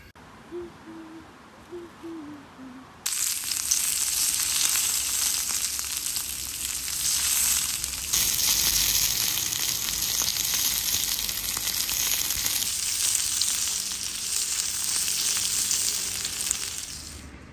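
Meat sizzles on a grill at a campfire spot in a residential area of Hayama, a loud, steady hiss and crackle that starts abruptly and keeps going for about fourteen seconds, after a few soft hooting calls at the start.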